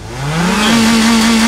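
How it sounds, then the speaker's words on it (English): A Mazda 3 turbo engine with an exhaust leak revs up close by, a loud rising drone that climbs in pitch and then holds steady with a raspy edge. "I think you got an exhaust leak."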